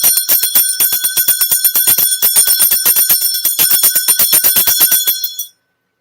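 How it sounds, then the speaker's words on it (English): A handheld bell, used to clear energy during a spiritual reading, rings in a rapid, steady series of bright metallic strikes for about five seconds, loud and close, then stops abruptly. "let me just ring the bell. That's quicker."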